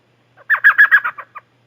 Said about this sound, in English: Elf owl.